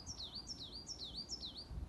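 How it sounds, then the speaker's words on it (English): Small birds sing outdoors on a mild winter morning, a repeated high, sweeping whistled phrase about four times in steady rhythm, moderately near and fairly quiet over faint low background rumble, with no talking. "Outside, the birds are singing, it's crazy."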